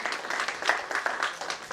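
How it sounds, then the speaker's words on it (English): Audience applause at a quiz prize presentation, a dense wash of many hands clapping at moderate, even loudness for a couple of seconds, with no one speaking over it. "Big round of applause for"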